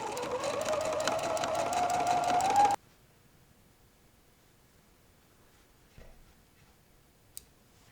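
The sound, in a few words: sewing machine stitching a quilt row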